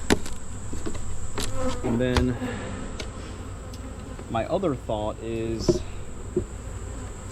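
Honey bees buzz steadily around a light hive box during late-July beekeeping, a continuous droning hum under intermittent talk and some clinks of equipment.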